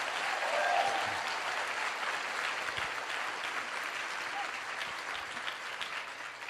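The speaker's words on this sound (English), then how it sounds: "Give yourselves a round of applause." An audience at a motivational business talk applauds, soft and somewhat distant, a continuous wash of clapping that holds steady and slowly tapers without any speech over it.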